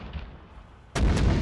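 A single sudden burst of gunfire in ARMA 3 breaks a quiet background and then rumbles on loudly to the end.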